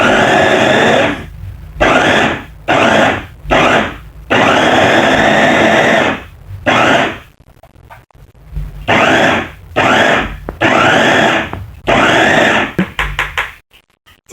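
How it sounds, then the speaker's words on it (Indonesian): A blender grinds green chilies with loud, harsh whirring in repeated short bursts separated by brief pauses, then a longer run near the end. "Sudah kita taruh di blender"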